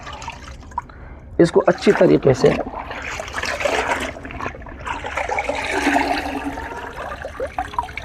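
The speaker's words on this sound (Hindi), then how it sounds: "अब हम इस बाल्टी में जो हमने पानी भरा हुआ हम इसमें डालेंगे।" Water from a filled bucket is poured onto cloth, splashing and trickling in a burst near the start, then dribbling on in the background while someone speaks over it.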